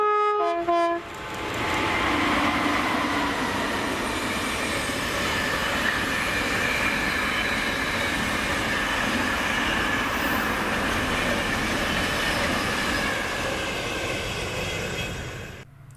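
Freight train 4L10 from Coatbridge to Tilbury, hauled by locomotive 88005, rumbles past close by in Scotland with a steady roar of wagons and wheel squeal, opening with a short horn blast before fading slightly at the end.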